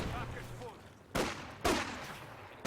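Infantry support gun and rifle fire in a strategy war game: two sharp, loud blasts about half a second apart, each with a brief decaying tail, over a low battlefield rumble, with another shot starting at the very end.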